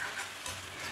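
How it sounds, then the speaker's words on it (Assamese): Banana shoot and masoor dal fry in oil for Assamese posola khar, giving a soft, even sizzle with light stirring, faint and close, without any talk. "গোটেইখিনি ভালকৈ এতিয়া মই ভাজি ল'ম।"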